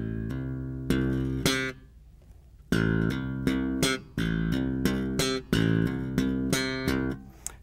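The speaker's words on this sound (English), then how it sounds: "So we have four 16th notes that sound like this." A bass guitar plays a thumb-slapped octave pattern with hammer-ons in bursts of sixteenth notes, each cluster of sharp percussive attacks followed by ringing sustain. It is loud and close, with brief pauses between phrases and no voices.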